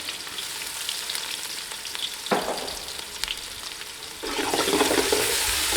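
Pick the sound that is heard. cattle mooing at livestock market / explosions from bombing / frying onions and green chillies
frying onions and green chillies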